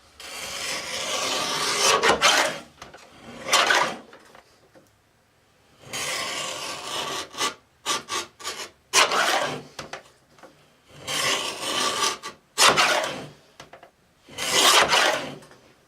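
Scissors cut through printed paper labels covered in clear packing tape, close and distinct, coming in repeated bursts of rasping snips separated by short pauses.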